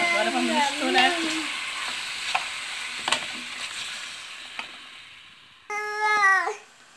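Pork ribs seasoned with cumin sizzle in a hot pan as they are stirred, a soft frying hiss with scattered scraping clicks, heard close under a woman's speech, which returns briefly at the end.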